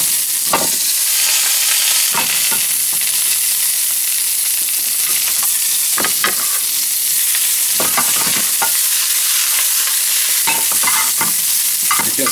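Vegetables pan roasting in duck fat give a steady, loud sizzle, with occasional clacks of stirring and tossing in the pan breaking through the continuous frying hiss.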